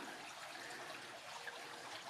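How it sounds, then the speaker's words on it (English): A small forest brook trickles steadily beneath a footbridge, giving a faint, even wash of running water with no one speaking. "Nice little brook down here."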